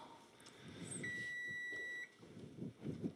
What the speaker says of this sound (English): I think that was the timer for the pizza.